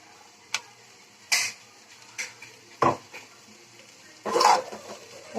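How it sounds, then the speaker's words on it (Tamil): A spoon scrapes and knocks against a pan while ground coconut is stirred into cluster beans, with several separate sharp clinks and scrapes at irregular intervals, close and fairly loud, no speech. "போட்டு ஒரு கிண்டி கிண்டிக்கலாம்."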